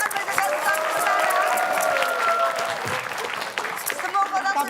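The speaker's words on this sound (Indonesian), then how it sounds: "kita akan tepuk tangan" A studio audience at a quiz show claps steadily for several seconds, a dense spread of applause that thins out toward the end.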